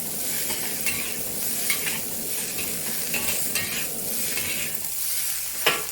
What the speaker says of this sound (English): Stir fry over high heat for half a minute.